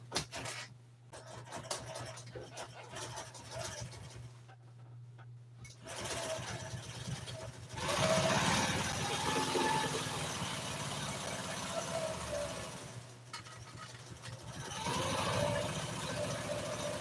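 A sewing machine stitches around a car seat's upholstery on an old Toyota seat, whirring steadily in long runs with brief pauses and quiet gaps between passes.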